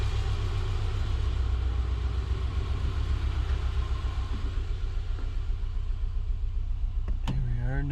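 A Subaru fitted with a swapped JDM EJ253 engine idles steadily and close up, a low even rumble with a faint rhythmic pulse, joined near the end by a brief rising whine.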